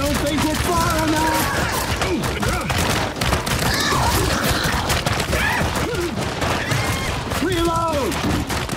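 Heavy, dense gunfire fills a Gears 5 firefight in The Choke escape, continuous volleys and bursts running throughout, with people shouting and talking over the shooting.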